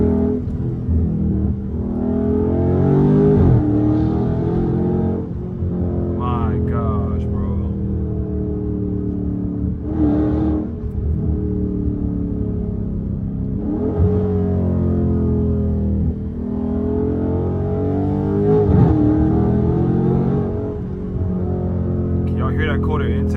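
A straight-piped Dodge Scat Pack engine rumbles and revs in repeated surges over about twenty seconds, loud and close, with someone talking excitedly over the exhaust throughout.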